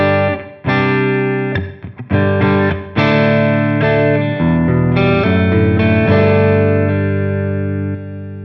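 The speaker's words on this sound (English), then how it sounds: "Here's the single coil neck" An electric guitar on its single-coil neck pickup, volume and tone fully up, plays through an SL100 amp model with reverb: a run of sustained chords and notes with a few brief gaps, ringing tails and a slightly driven tone.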